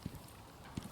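A horse in a fenced outdoor pen, heard as two soft, distant hoof thumps spaced under a second apart over a quiet background.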